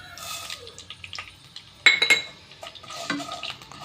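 Mustard seeds going into a hot pan for a Goan ambadyacho ross, with scattered light pops, crackles and a few metallic utensil clinks against cookware, close and intermittent over a quiet background.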